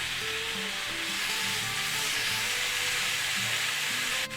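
Paneer tikka pieces on a buttered grill pan give a loud, steady sizzle and frying hiss throughout, close up, with faint scraping and no talking.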